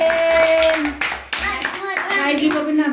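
Family members clap together at home during a daughter's gift unboxing, a dense burst of close hand claps mixed with overlapping voices and someone speaking.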